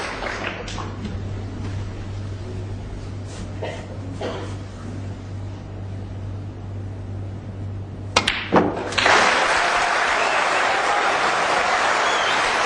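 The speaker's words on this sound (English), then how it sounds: "And why wouldn't you applaud that?" Snooker spectators at the 2008 World Championship applaud a century break, the clapping swelling in late and holding loud and steady, after a quieter stretch with a low hum and scattered sharp clicks.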